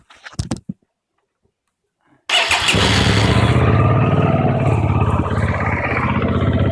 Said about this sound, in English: I'm going to fire the bike up.